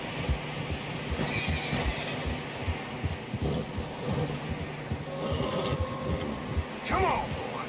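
Horses whinny and neigh in Red Dead Redemption 2 while riding a narrow snowy trail, with clip-clop hooves, wind, and a voice talking over the game sounds.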